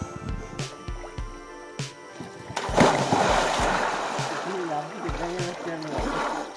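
Water spills and splashes from a wetland (beel) in Tripura on a summer day, a steady splattering wash that swells after a few soft drips, with people talking over it.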